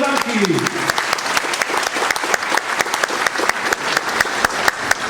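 Audience clapping with crisp individual claps, loud and close, and a voice briefly heard at the start over the applause.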